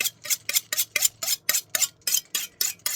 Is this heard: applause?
no